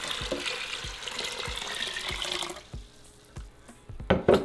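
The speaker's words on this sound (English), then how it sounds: "so we're going to add 8 cups of water" Water pours into an Instant Pot holding beans, a steady close splashing stream that cuts off partway through and gives way to a few louder knocks and clinks at the end.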